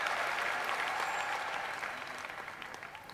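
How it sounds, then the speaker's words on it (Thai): A studio audience on a Thai television singing-contest stage claps in a full, sustained round of applause that slowly fades toward the end. "ขอเสียงปรบมือกับพี่ทอมประสาคร"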